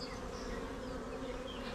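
Honey bees of the Carniolan strain buzz at an open hive in a garden. The hum is dense, steady and close, without a break, and no one speaks.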